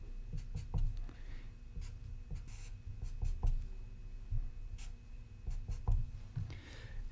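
A pen scratches out a Newman projection of eclipsed ethane by hand, with close, dry strokes and taps in a steady, uneven rhythm and no talking.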